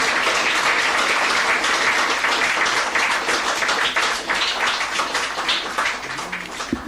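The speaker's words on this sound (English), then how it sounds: "Let's have another round of applause" A full, steady round of audience applause at a St. Lucia Independence knighting ceremony, dense and continuous throughout with no voices above it.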